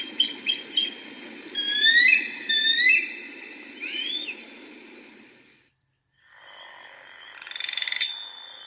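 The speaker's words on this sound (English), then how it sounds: "Frogs." Frogs call in short chirping bursts alongside birdsong over a steady outdoor hum, then a brief lull before a louder burst of calls near the end.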